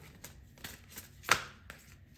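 Tarot cards are shuffled in a series of quick riffling snaps, one louder flurry in the middle, close up and otherwise quiet.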